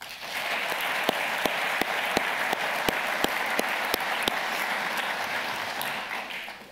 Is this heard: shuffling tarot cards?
no